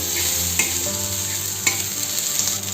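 Onion frying in a spoonful of hot oil for Maharashtrian misal pav, a steady close sizzle and crackle with a couple of sharp pops and a low background hum.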